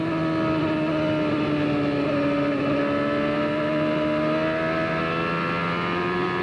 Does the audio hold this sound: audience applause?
no